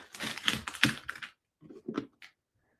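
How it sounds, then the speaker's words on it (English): Tape being peeled off painted bunny decor craft pieces, a quick burst of crackly ripping followed by a couple of shorter tearing snaps, close and fairly quiet, no talking. "I'll get rid of our tape."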